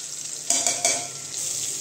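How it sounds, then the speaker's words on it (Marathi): Spices including turmeric, salt and masala fry in hot oil for an Agri-style bombil (Bombay duck) curry, a close, steady sizzle with two or three brief stirring scrapes and no talk. "हे मसाले तळून घ्यायचे तेलावर।"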